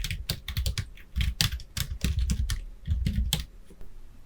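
Text typed on a computer keyboard during a word-processor lesson, a close run of quick irregular key clicks with short pauses and no talk.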